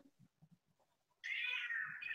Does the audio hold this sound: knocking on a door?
no